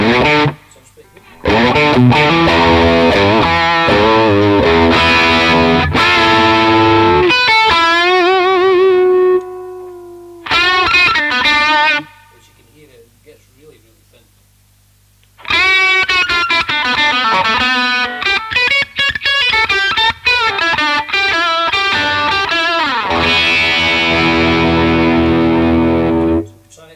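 Greco Les Paul electric guitar with all three pickups on, played through distortion: loud overdriven chords and riffs in bursts, with a near-silent pause in the middle before the playing resumes, and no talk over it.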